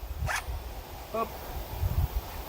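A zipper is drawn shut on a carp fishing retention sack outdoors, a short rasping zip followed by a second brief one, close by, with faint rustling and background noise.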